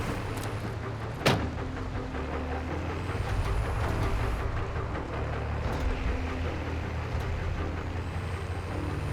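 An enemy troop transport vehicle drives in a Call of Duty Modern Warfare 2 battle scene: a steady low engine rumble with a sharp air-brake hiss early on, heard at moderate distance without talk.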